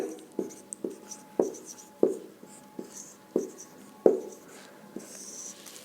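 Chalk or marker writing the chemical formula for gypsum, calcium sulfate dihydrate, on a board: a series of short, sharp tapping strokes and squeaky scratches in an uneven rhythm, close and fairly quiet, with no talk.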